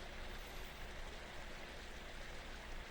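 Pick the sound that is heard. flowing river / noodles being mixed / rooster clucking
flowing river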